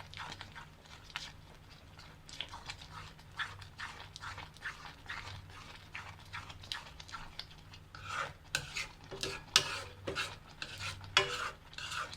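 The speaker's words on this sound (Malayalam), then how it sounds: "അപ്പോൾ അത് ആകാണ്ടിരിക്കാൻ നമ്മൾ ഇതുപോലെ സ്പീഡിൽ മിക്സ് ചെയ്ത് ഒന്ന് ഡ്രൈ ആക്കി എടുക്കുക" Milk peda mixture being stirred fast in a pan, a rapid series of quiet scraping and rubbing strokes against the metal that grow louder and more clattery toward the end, with no talk.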